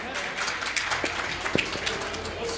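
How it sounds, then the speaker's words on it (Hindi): An audience applauds a bhajan singer at the Baba Gangaram Vandana Mahotsav devotional festival in Purulia: steady, dense clapping from a crowd, moderately loud and sustained throughout with a few sharper individual claps standing out. "जोरदार तालियों से इनका स्वागत।"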